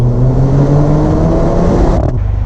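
A Mercedes-AMG GLA 45 engine pulls hard under acceleration, loud and close, with a dual-clutch gearbox snapping through a quick upshift near the end as the engine note drops abruptly.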